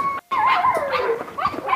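A German shepherd puppy whimpers in a string of high, wavering whines and yelps, close and clear, with one short pause near the start.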